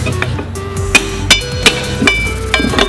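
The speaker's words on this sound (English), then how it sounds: "get a tire iron and a hammer and force that bead down on the bottom bead" Several sharp metallic hammer strikes on a tire iron, forcing the bead of a 12-inch trailer tire down on a Coats 5030A tire changer, ring out at irregular intervals, close by, over a low rumbling background.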